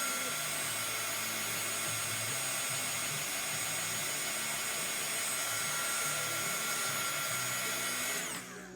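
A hair dryer blows on shimmer paste on a chalk craft project, a loud, steady whirring rush that runs unbroken for several seconds before cutting off at the end.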